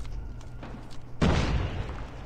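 A frag grenade detonates in the Call of Duty Mobile Gulag: a sudden loud, broad blast hits midway after quieter game ambience, then a rumbling wash of debris noise lingers to the end.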